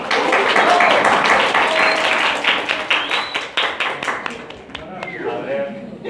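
Students applauding in an immunology class, a dense burst of clapping that starts loud and thins into scattered individual claps, with a teacher's voice speaking over the tail end.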